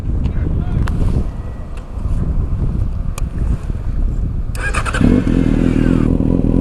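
A 2009 Yamaha FZ6 motorcycle being ridden, its steady engine drone mixed with heavy wind buffeting at the microphone, with a shift in engine tone partway through.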